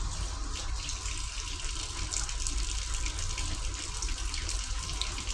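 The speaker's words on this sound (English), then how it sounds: "I'm using warm water." Steady warm water running from a tap splashes continuously into a basin, a constant close rush of flow with no pauses.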